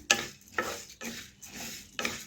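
Puffed rice being stirred in salt in a pan, with four rhythmic gritty scraping strokes about half a second apart, each a sharp rustling burst fading off, close and alone.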